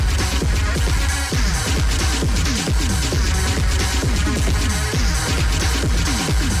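A Detroit house and techno DJ mix, with a dense, loud, continuous dance track and a driving kick-drum pulse under layered synths and percussion.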